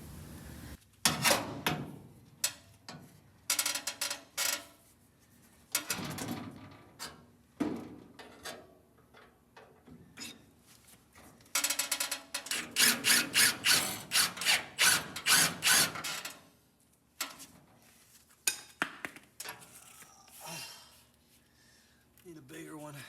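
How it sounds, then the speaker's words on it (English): Self-tapping tech screws driven into the sheet-metal body of a VW Karmann Ghia under restoration, bursts of loud whirring drilling and ratcheting separated by pauses, with short spoken remarks between runs. "I'm gonna put a couple tech screws in here"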